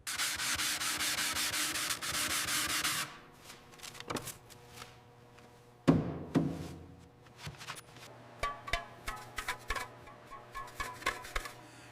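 Old 1920 Ford Model T hubcaps are polished by hand: a loud, dense scrubbing burst for about three seconds, then scattered wiping, tapping and rubbing strokes that become quicker and more rhythmic toward the end.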